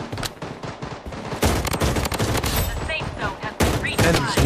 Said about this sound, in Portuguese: Nossa, que rajada ainda